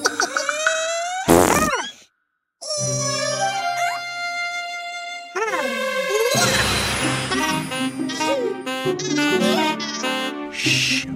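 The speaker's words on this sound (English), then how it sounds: "Oops! Someone missed a fart!" Cartoon sound effects from a kids' animation: a comic squeaky fart-like burst near the start, then whimsical tonal boings, whistles and music stings, loud and close, without spoken words.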